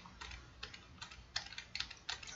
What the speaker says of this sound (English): And I'm going to press F8 to bring up the boot menu.